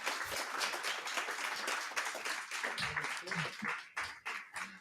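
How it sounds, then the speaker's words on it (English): A conference audience in Brussels applauds after a debate, with a dense burst of hand clapping that is fairly close and lively, then thins into scattered claps with a few voices under it. "please, a very warm applause to all three"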